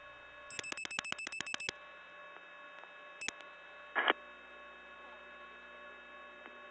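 A step-by-step tandem telephone switch from 1979 answers dialing 91: rapid dial pulses clicking in a quick train, then a lone pulse and a short relay clatter, all over a steady line hum.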